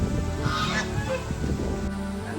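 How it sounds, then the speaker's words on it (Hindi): Waterfowl at Renuka zoo, ducks kept in caged enclosures, call with steady overlapping honking and quacking, fairly loud and close, running continuously. "ये देखिए डक्स।"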